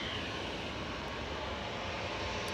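An aircraft passing at Manchester Airport: a loud, continuous broadband engine roar that holds steady throughout without a break, with no talking.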